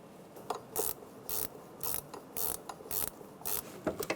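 A ratchet snugs valve cover bracket bolts on a 1996–2002 Toyota 4Runner, giving a close series of quick clicking bursts in a steady rhythm, about eight short runs of pawl clicks with brief pauses between them.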